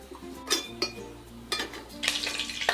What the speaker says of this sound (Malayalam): ഒരു പാൻ അടുപ്പത്ത് വെച്ച് ചൂടാകുമ്പോഴേക്ക് ഇതിലേക്ക് ഏകദേശം ഒരു 3 ടേബിൾ സ്പൂൺ ഓയിൽ ഒഴിച്ചു കൊടുക്കാം